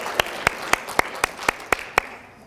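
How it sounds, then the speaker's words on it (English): Room full of attendees applauding at a statewide program meeting, with one nearby pair of hands clapping in a steady, evenly spaced beat above the softer, continuous crowd clapping for about two and a half seconds. "Round of applause."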